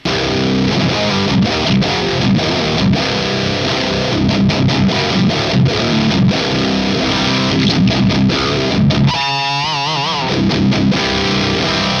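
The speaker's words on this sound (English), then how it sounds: "Now your amp has distortion, and not only distortion, but tube distortion." Heavily distorted electric guitar playing chords through a tube distortion pedal, thick and loud throughout, with a brief burst of warbling effect near the end.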